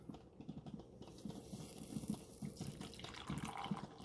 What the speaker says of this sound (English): let's grab some coffee, see how it pours